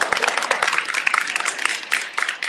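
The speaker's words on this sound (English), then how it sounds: "Yes, I had a round of applause for that." A live audience at a talk applauds loudly and close by for the whole stretch, a dense patter of many hands with a few sharp individual claps standing out.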